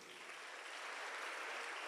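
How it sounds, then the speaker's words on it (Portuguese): A congregation applauds during a church service, a dense, steady wash of clapping that swells slightly and holds throughout. "Dê um aplauso ao Senhor por isso"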